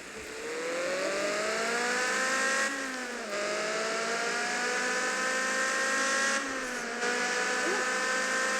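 A car in a parking video game revs and accelerates, engine pitch climbing in smooth sweeps that break off briefly at gear changes before rising again, fairly loud and without voices.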